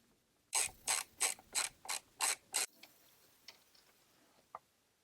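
A ratchet loosens T40 bolts on a BMW DISA valve, seven quick evenly spaced clicking bursts, close and crisp, followed by a few faint scattered clicks and a single light tap.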